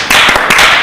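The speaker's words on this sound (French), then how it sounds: "je voudrais qu'on applaudisse vraiment les journalistes." A studio audience applauds journalists during a French live show: a dense, steady burst of many hands clapping, loud and close, filling the whole short moment with no voices over it.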